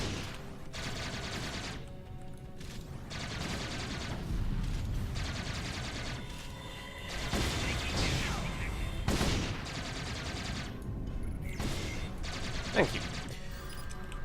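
Starship weapons fire in the video game Star Trek Online: a sustained barrage of overlapping energy blasts and rapid shots, moderately loud, in bursts that come and go, with occasional talk mixed in.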